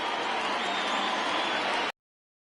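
A baseball stadium crowd of around 22,000 rises to its feet cheering and applauding during a Dodgers vs Marlins game, a dense, loud roar of claps and voices that cuts off abruptly after about two seconds.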